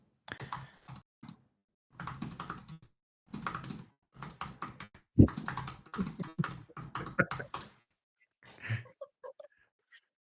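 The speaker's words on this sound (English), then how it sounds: "Keyboard sounds crunchy." Bursts of crisp, crunchy keyboard typing, clattering in quick clusters separated by short pauses, close and clear.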